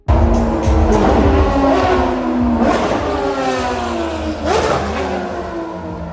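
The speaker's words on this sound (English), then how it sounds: "First up was the Ferrari FXXK, which hit the track followed by all 3 FXX cars," Ferrari FXX and FXXK hypercars lap a race track near Jeddah, their engines roaring loud and close as they rev up and shift through gears in sweeping passes.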